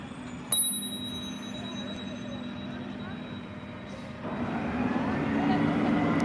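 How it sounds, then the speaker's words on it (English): A bicycle bell rings once with a sharp metallic ding that hangs briefly, heard outdoors on a street in Inwood, Manhattan, New York City, over steady urban traffic rumble that swells as a garbage truck approaches. "I got my bike bell."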